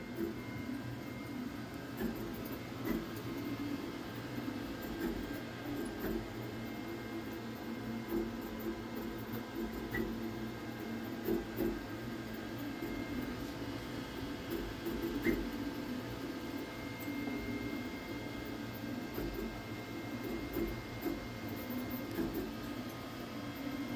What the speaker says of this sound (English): give you some more sound checks so you guys can get a sense of the volume of this printer